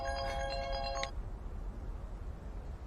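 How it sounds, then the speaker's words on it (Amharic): A mobile phone ringtone plays a bright melodic pattern of repeated electronic tones for about a second, then cuts off abruptly, leaving only a low background hum. "ስልክሽ እየጠራ ነው።"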